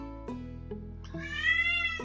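An indoor cat gives a few short meows followed by a longer, rising whine, fairly close and clear, with no voices.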